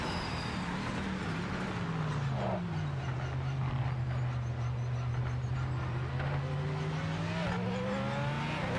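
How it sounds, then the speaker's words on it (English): A race car in a PC racing game runs alongside at speed, its engine a steady sustained drone that shifts pitch slightly as it holds position close by, with no talk over it. "I can hear that car beside me."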